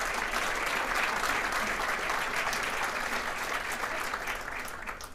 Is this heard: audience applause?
yes